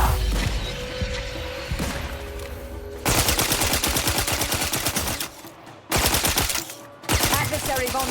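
Dense automatic gunfire in The Outer Worlds 2 rattles in fast, loud bursts that stop briefly and start again. An earlier stretch is busier and more mixed, and an electronic voice speaks faintly beneath it.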